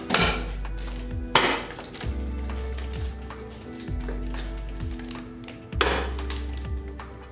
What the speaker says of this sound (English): Snap the elbow covers on both sides